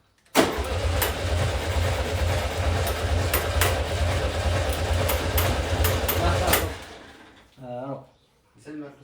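A Volkswagen Beetle engine under renovation catches with a sudden burst and runs at a loud, steady rumble for about six seconds, then cuts out. Voices talk after it stops.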